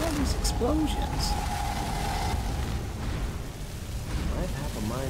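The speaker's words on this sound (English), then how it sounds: "Whoa. What's all these explosions?" Rumbling explosions go off in the fantasy video game Skyrim, a dense run of booms and bursts heard under talking voices throughout.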